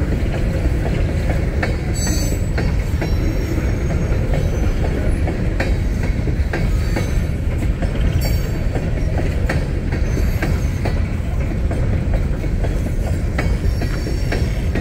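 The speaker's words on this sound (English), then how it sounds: "we got an empty coal train. He's coming out of the yard" A Union Pacific empty coal train rolls out of a rail yard in DuPont, making a loud, steady rumble with clattering wagons and occasional wheel squeal that continues throughout.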